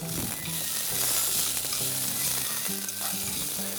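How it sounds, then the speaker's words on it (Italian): Green beans, blanched beforehand, sizzle and fry in a pan, a steady close crackling hiss with faint stirring and clinks, no voices. "Appena sfrigolano un po', metto un po' di vino bianco, sfumo e copro"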